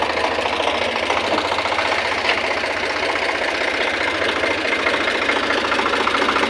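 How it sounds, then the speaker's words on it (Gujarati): A tractor engine idles close by in a steady, loud diesel knock with an even rapid rhythm that holds unchanged throughout, with no voices. "ટ્રેક્ટર"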